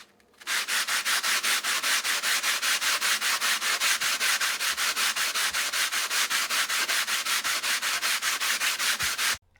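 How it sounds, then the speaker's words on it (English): Rhythmic back-and-forth rasping of sandpaper as a whetstone is rubbed flat, with dozens of even strokes at a steady fast pace, close and continuous, with no voices. "I am done sanding both sides of the stone."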